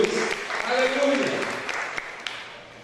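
A church congregation applauds during a sermon, with scattered claps and sharp individual hand strikes over a murmur of voices, moderately close and fading toward the end.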